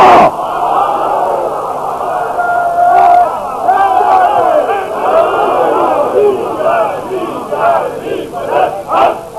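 A crowd at a religious gathering in Model Town, Lahore chants the Nara-e-Takbeer slogan in loud, rhythmic, surging waves of massed voices that fill the whole stretch.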